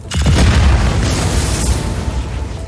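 A Just Cause 4 explosion, a single loud booming blast followed by a rumbling decay that fades over a couple of seconds.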